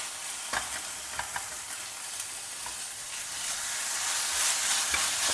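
Ginger garlic paste, slit green chilli and chopped tomatoes are stir-fried for a sprouted peas kurma, giving a continuous loud sizzle with occasional scraping stirs, close by and with no voices, and the frying grows slightly louder toward the end.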